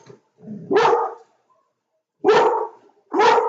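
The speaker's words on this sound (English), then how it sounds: "Well, that's attacked another dog." Dog barks during a fight between dogs: three loud, close, strained barks with a whimpering yelp at the start, separated by short silences.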